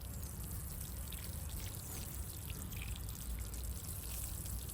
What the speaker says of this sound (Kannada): ಈಗ ನೀರು ಹಾಕ್ತೀನಿ.